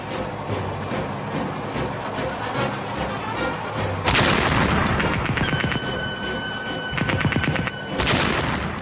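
Guns of a German A7V tank from the First World War firing in a heavy, continuous barrage, with loud booms and rattling bursts that grow more intense partway through.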